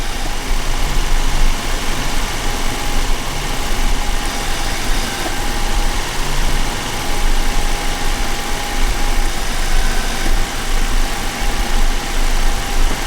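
A brake booster pump motor on a Toyota Land Cruiser runs steadily to build pressure, giving a continuous, dense mechanical hum and whir with no pauses across the whole stretch.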